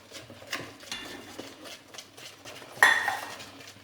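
A spoon scrapes and knocks around a bowl while brownie batter is mixed, irregular soft clinks and stirring scrapes with one sharper clatter near the end.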